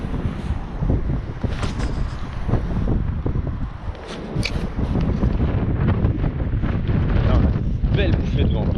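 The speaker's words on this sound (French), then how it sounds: "Belle bouffée de vent par contre." A strong gust of wind buffets the microphone on a riverbank during zander fishing, roaring and fluttering in uneven surges, close and loud, with a voice briefly present underneath.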